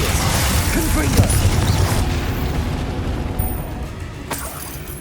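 Spell effects from the Hogwarts Legacy video game, including Incendio, Glacius and Confringo, play out as a dense run of booms, bursts and magical rumbles. The sound is loud and continuous, with sharper hits near the start and end.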